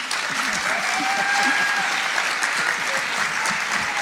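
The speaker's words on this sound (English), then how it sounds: "I'm gonna allow you guys like 10 seconds to applause" Audience applause at a school board candidate forum, a steady, dense wash of clapping from a sizeable crowd holding at an even level throughout, with a faint voice murmuring underneath.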